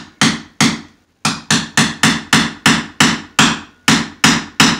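A chisel is tapped on its butt to notch trim molding, giving about a dozen sharp, close knocks in an uneven rhythm with one short pause. No one speaks.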